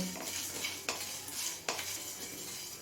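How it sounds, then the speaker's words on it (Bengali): Cinnamon sticks, cloves and a bay leaf are dry roasted in a pan over low-medium flame, heard as a soft faint sizzle with a couple of distinct scraping stirs, close and without voices. "এবার এই মশলাটা লো মিডিয়াম ফ্লেমে ড্রাই রোস্ট করে নেব"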